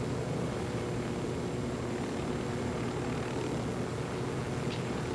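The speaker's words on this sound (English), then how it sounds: "this helicopter's not rising" Helicopter in the video game Ghost Recon Wildlands, a steady, loud rotor and engine drone that fills the whole stretch without letup, with no talking over it.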